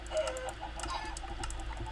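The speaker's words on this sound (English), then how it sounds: "There's way too many chickens." Minecraft chickens cluck repeatedly in a busy flock, short clipped game-animal clucks overlapping in quick succession at close range over a low steady hum.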